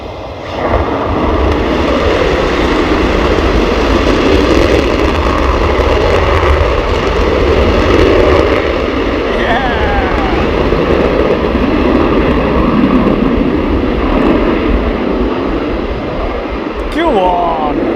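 A military jet takes off on afterburner at RAF Lakenheath, a loud, continuous, deep rumbling roar that stays heavy and unbroken throughout.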